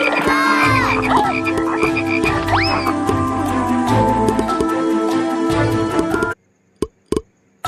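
Many frogs croak loudly and continuously in a dense chorus, with rhythmic ribbits and trilling calls overlapping close by before the sound cuts off abruptly, leaving a few isolated clicks.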